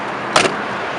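Door of a 1940 Chevrolet Master Deluxe sedan opening, a single short latch click and clunk, near and brief, set against steady outdoor background noise.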